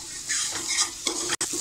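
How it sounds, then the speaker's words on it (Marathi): Soaked chana dal sautéed in a pressure cooker, a brief close burst of sizzling and scraping as the dal is stirred, with a short gap near the end. "ही पण व्यवस्थित आपण डाळ 2 मिनिटं अशी परतून घ्यायची आहे."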